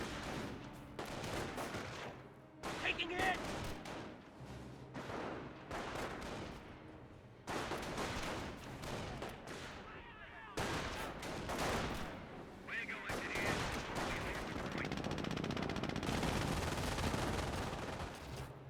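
Rifle volleys and machine-gun bursts in a Company of Heroes battle, with Panzer Grenadiers and other squads fighting, rattling in dense, overlapping bursts at moderate distance while a commentator talks over the action.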